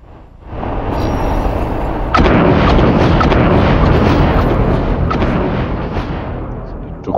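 Drones slamming into a ship in the space game X4: Foundations, heard as a continuous loud, dense rumbling roar with a sharper impact surge partway through, then a slow fade, with no talking.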